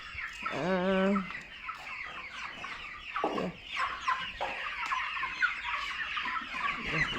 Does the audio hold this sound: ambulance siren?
no